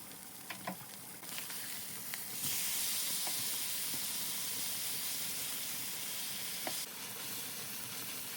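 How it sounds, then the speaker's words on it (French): Beef liver sizzles and fries in a pan over medium heat, a steady close hiss that swells louder partway through and then eases back slightly, with no talking. "Je mets maintenant le feu et je laisse cuire à feu moyen."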